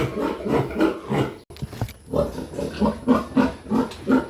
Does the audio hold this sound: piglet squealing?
yes